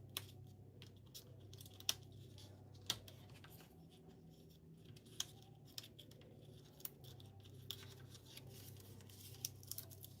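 Scissors cutting paper while a greeting card is made: faint, sparse snips and small crisp clicks scattered over a low steady hum, close by and quiet, with no speech.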